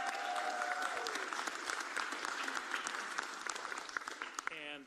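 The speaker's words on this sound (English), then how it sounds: "Give her a round of applause." An audience at a legislative event applauds a senator with dense, sustained clapping across the room that fades near the end, while a voice speaks briefly over the start.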